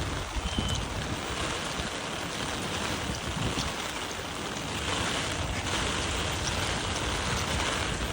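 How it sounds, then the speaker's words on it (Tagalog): Heavy typhoon rain pours down in Japan, a dense, steady roar of water that holds at an even, loud level throughout with no voices. "Lakas na ang ulan."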